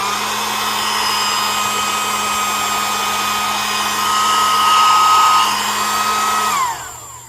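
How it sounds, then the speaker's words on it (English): A battery-powered doll re-rooting tool whirs with a steady, hairdryer-like motor hum and whine, loud and close, rising slightly before winding down near the end. "Honestly, it sounds like a hairdryer."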